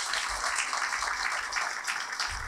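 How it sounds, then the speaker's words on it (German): A church congregation applauds, a dense steady patter of many hands clapping, continuous and fairly even with no voices over it. "Auch denen bitte nochmal einen kräftigen Applaus"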